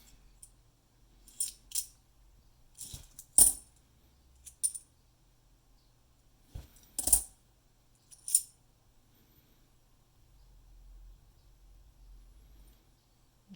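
A small handful of old Australian penny coins, some with green verdigris corrosion, drop one after another in sharp, bright metallic clicks and clinks. The drops are spaced irregularly, and a quiet pause follows.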